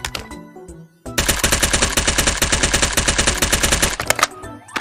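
Rapid automatic gunfire from an addon gun in a first-person video game, a dense, loud, steady burst of shots lasting about three seconds after a brief quiet start, ending abruptly.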